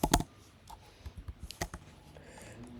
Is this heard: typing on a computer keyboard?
yes